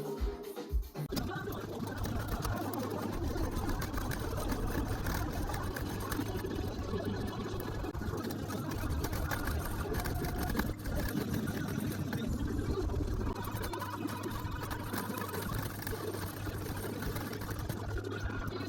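A sewing machine topstitching fabric on a cozy wrap hums and whirs steadily up close. The motor drone carries on almost unbroken after a brief knock at the start, with a faint low background beneath.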